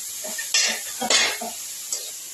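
A pan of pathri greens sizzles softly while a utensil scrapes and stirs in a few short bursts, close at hand with no voices.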